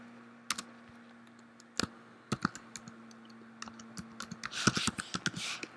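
Someone types on a computer keyboard while naming an ownership boundary in ArcMap 10: scattered, irregular key clicks close by and fairly quiet, with a denser quick run of keystrokes at the end.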